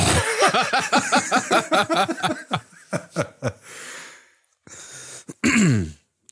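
A man coughs and clears his throat several times in a quick series of rough bursts, followed by a brief chuckle and a final throaty clearing at close range during a podcast recording.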